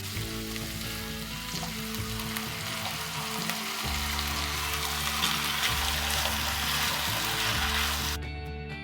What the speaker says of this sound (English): Let this veggies cook for 2 minutes